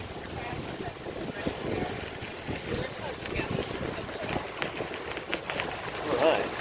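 Headwind buffets the microphone of a bicycle rider on a Sanibel Island, Florida beach, a rough, continuous low rumble of wind noise with surf-like roar underneath.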